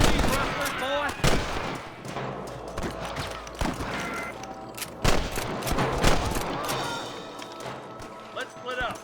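Repeated gunshots crack in bursts during a cattle rustler shootout in the video game Red Dead Redemption, with shouting voices and hoofbeats mixed among the loud irregular volleys.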